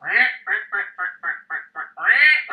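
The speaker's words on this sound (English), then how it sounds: "It sounds like somebody with a duck call." Loud, close quacking like a duck call, a rhythmic run of about nine nasal quacks, the first and last drawn out longer than the short ones between.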